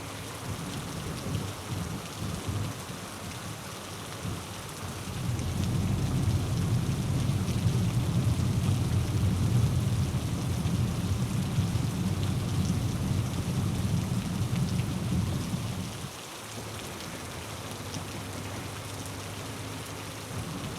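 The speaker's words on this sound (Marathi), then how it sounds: "पाऊस रिपरिप पडतोय, जमीन ओली होतीये" Steady drizzling rain falls in Yavatmal, a continuous hiss of drops on the ground that swells louder through the middle stretch before easing back to a lighter patter, with no voices.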